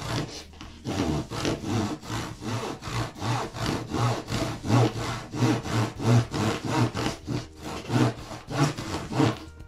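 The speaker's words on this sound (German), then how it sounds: "Und schneide noch das Stückchen Holz hier ab." A small piece of wood cut off with a hand saw on a DeAgostini Fokker Dr.I model: steady, close back-and-forth rasping strokes, roughly two per second, continuous for nearly ten seconds with no talking.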